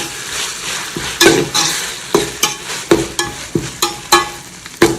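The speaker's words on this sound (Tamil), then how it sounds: "இஞ்சி பூண்டு பேஸ்ட் ஆட் பண்ணி வதக்கிப்போம்." Ginger garlic paste sautés over a low flame for paneer biryani, a soft sizzle punctuated by repeated sharp scrapes and taps of a spoon stirring against the pan.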